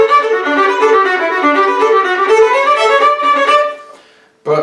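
Solo fiddle playing Fisher's Hornpipe with separate bow strokes on each note, a brisk, even run of bright, close notes that stops and then gives a short final sound.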